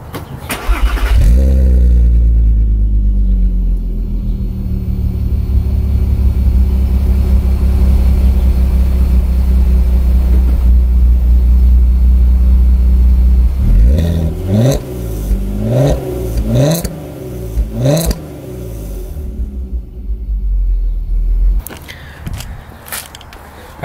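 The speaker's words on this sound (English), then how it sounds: "so that's how the stock exhaust sounds" A VW R32 with its stock exhaust starts and idles with a deep, loud rumble, then revs sharply several times in quick succession before settling back.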